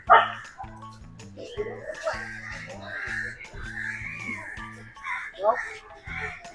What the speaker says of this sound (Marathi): इकडे खूप कुत्री आहेत